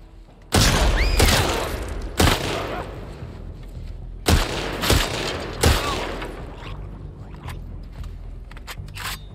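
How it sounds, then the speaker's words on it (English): Gunfire in The Last of Us Part II: several loud, sharp shots spaced a second or two apart, each ringing out with a short echoing tail, with a faint whistling tone near the start. "That dude out there shot me."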